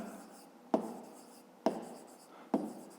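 A maths answer is written down by hand, with three sharp taps of the pen or chalk against the surface at roughly one-second intervals, close and fairly quiet over a faint steady background.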